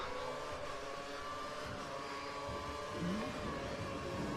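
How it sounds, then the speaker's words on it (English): Engine of an F1 car in the F1 2013 game at Monaco climbs through the gears inside the tunnel, a steady, faint high-pitched racing whine with a rising shift near the end, alone without talk. "going up the gears through the tunnel"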